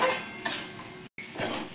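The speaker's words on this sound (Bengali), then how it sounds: "দিয়ে আমি মশলাটাকে ভালো করে কষিয়ে নেব।" Ground coriander and cumin masala stirred and fried in a pan, giving short scraping spoon strokes against metal with a light sizzle underneath, two or three distinct stirs close by with a brief gap.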